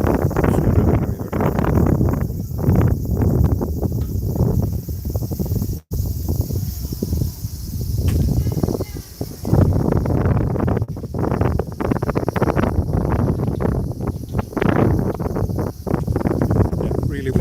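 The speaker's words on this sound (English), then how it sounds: "Yeah, really windy right now." Strong wind buffeting a microphone outdoors by a river in the Japanese countryside, with heavy low rumbling gusts that rise and fall throughout and a voice talking underneath.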